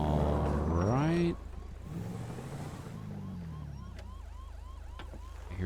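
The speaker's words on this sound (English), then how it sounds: "I hear sirens." Distant wailing sirens from a Red Dead Redemption 2 roleplay game, rising and falling in repeated sweeps over a steady low rumble, with a louder tone at the start.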